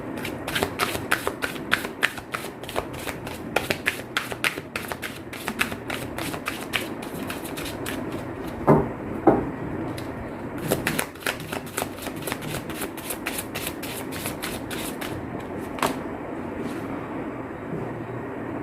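A tarot card deck is shuffled by hand, giving rapid riffling flutters in repeated bursts with short pauses between them, close and fairly loud, with no talking.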